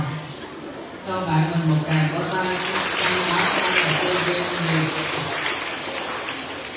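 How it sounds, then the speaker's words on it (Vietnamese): A crowd at a Buddhist teacher's talk gives a round of applause, a steady mid-level clatter of clapping that fills the clip, with voices talking and murmuring through it. "Cho bạn mình một tràng vỗ tay"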